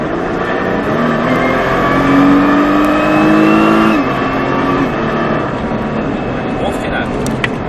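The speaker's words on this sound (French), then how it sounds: "Filet de gaz, tu regardes le plus loin possible et tu peux accélérer." A car on a driving track holds a loud, steady engine drone that rises in pitch as it accelerates, heard from inside the car with a voice speaking over it.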